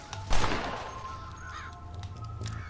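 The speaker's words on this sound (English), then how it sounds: "Wow, there's a lot of crows there." A flock of crows in Red Dead Redemption caws repeatedly after a burst of gunfire, harsh calls rising and falling at moderate distance over a quiet, humming background.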